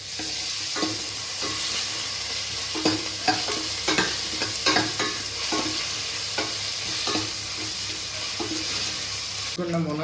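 A spoon scrapes irregularly around a cooking pot as turmeric is stirred into homemade South Indian sambar, with a soft sizzle underneath and a louder clatter at the end.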